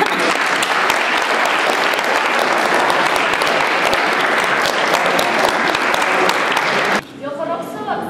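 A room of students gives a sustained burst of clapping for two schoolmates called to the front in Timișoara, dense and even for about seven seconds before stopping abruptly, leaving brief murmuring voices.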